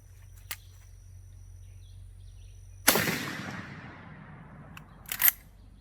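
A brush gun fires a low-velocity cast-bullet load outdoors: a single sharp report with a trailing decay stands out against quiet surroundings, and a fainter click-like burst follows a couple of seconds later.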